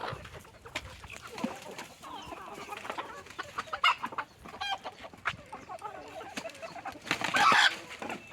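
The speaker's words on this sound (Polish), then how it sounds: "bije się kura z kogutem" Loud, agitated clucking and squawking from a hen and a rooster fighting, with bursts of flapping and sharp cries, strongest near the end.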